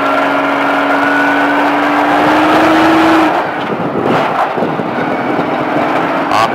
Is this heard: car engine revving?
yes